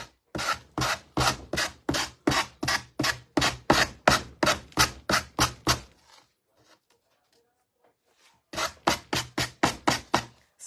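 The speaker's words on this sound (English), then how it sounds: "I'm going gonna have to sand this off a little bit" A decoupage project is sanded by hand with quick, rhythmic rasping strokes, about fifteen in a fast even run, then a few seconds of near silence before another burst of strokes resumes, close and clear with no talking.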